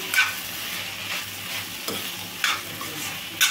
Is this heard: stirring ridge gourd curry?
yes